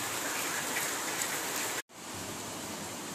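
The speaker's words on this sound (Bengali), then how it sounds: "বৃষ্টি ভালোই পড়ছে টিনের উপর, আই থিঙ্ক আওয়াজও পাচ্ছেন" Steady rain falls on a tin roof in a dense, even hiss of drops, broken by one very brief dropout before the downpour resumes unchanged.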